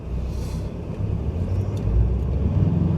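A car rolls through a roundabout in traffic, its low engine rumble and road noise steady, then swelling slightly louder toward the end, close and with no talking.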